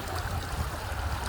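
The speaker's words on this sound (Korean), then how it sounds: "물소리 들리시죠?" Steady rushing and gurgling of stream water flowing over moss-covered stepping stones in Jeonjucheon after heavy rain, continuous and close with no talk.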